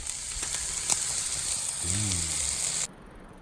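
Butter-basted rib steaks sizzle loudly and steadily on a Blackstone flat-top griddle outdoors, a dense frying hiss that stops abruptly near the end, with a brief voice or hum sounding partway through.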